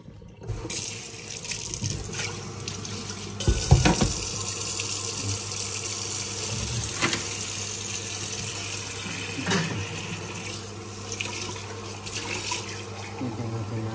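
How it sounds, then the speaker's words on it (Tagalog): A glass of water poured from a tap into a pot of fish paksiw with chili, eggplant and tomato, a steady running stream lasting throughout with a brief louder gush near the start. "Lagyan natin ng tubig. Isang baso."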